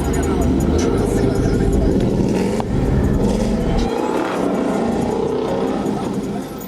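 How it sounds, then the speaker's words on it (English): Steady roar of city traffic on Gratiot Avenue in Detroit, with cars rumbling past, engine noise rising and falling, and people talking over it. "So you can hear all the cars in the background"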